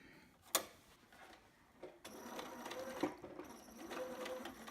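A domestic sewing machine stitches a seam on a two-piece baby sitter project, with its inside foot and needle moved over; short bursts of stitching start and stop, growing steadier and continuous in the second half, fairly quiet and close.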